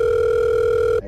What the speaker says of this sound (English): Wait, that's my phone.